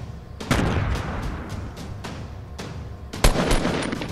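In the Fortnite video game, a thrown grenade goes off as a sharp, heavy blast near the end of a burst of scattered gunfire cracks, each report close and punchy.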